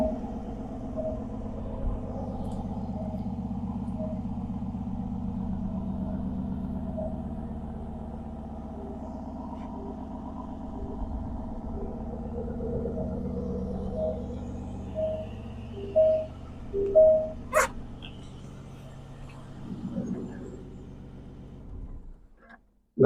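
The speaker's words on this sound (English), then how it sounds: "That is the sound of 2 turbos on a V8" Aston Martin DB11 Volante with a twin-turbo V8 idling from behind the car, a steady low rumble holding for about twenty seconds, then a few short throttle blips near the end before it cuts off.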